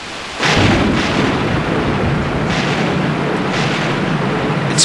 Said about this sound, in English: And that's just thunder.